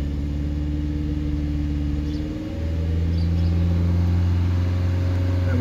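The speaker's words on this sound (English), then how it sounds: "asks us now to increase the engine speed to 2500 RPM. So if we just get those revs up." A car engine held at raised revs around 2500 RPM during a battery charging test, a steady mid-pitched drone that dips briefly then settles into a louder, even hum.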